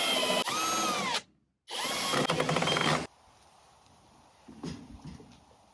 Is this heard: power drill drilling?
yes